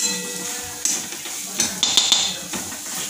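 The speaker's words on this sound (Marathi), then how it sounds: "त्यामध्ये आपण आपले भाजलेले ते झिंगे घालत आहोत। परतून घ्यायचे मस्त मसाल्यामध्ये।" Roasted prawns being stir-fried in masala in a pan, with a steady sizzle under repeated scraping and clinking of a spatula against the metal pan, no voices.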